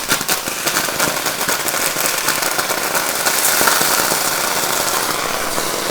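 White wine hitting hot mussels in a pan, a loud burst of hissing, spitting sizzle with rapid crackles that keeps going close up in the kitchen.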